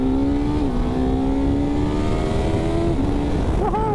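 A Suzuki GSX-S1000GX motorcycle engine pulls hard under acceleration, its loud revving tone climbing steadily with a brief dip at a gear change, close and continuous with no talk over it.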